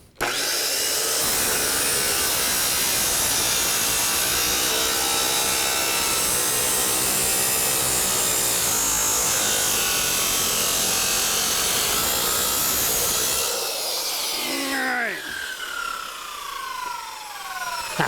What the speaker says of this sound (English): If my wheel is just penetrating the steel, that's great.